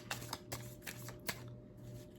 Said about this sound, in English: I've shuffled the deck already, so I'm just gonna do a quick shuffle here